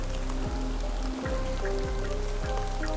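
Steady, dense rain patters continuously around a car near an abandoned temple in Ratchaburi, with a low droning tone rising and falling underneath and no talking.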